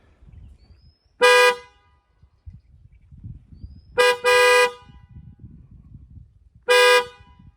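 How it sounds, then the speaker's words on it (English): A HELLA TE40 horn fitted to a Toyota Hilux gives a short loud honk, then a quick double blast, then one more honk, each bright and blaring over a faint low outdoor rumble. "let me just make you hear what this horn sounds like"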